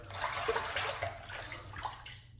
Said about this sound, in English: I just sprinkle the water onto the brush